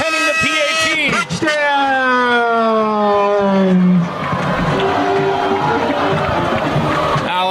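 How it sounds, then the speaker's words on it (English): Loud crowd roar at a high school football game between Timpview and Orem after a touchdown, a sustained wash of cheering with a siren-like horn wailing in the first seconds, continuing steadily throughout. "what an electric crowd tonight"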